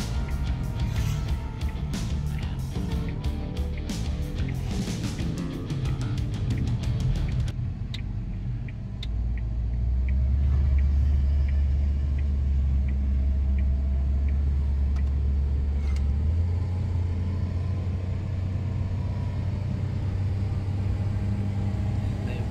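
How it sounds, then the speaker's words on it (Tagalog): A Suzuki Hustler on a test drive, with a steady, close engine and road rumble that continues throughout. A rattly, buzzing stretch at the start gives way to a deeper drone. "Test drive namin ngayon, so mabilis."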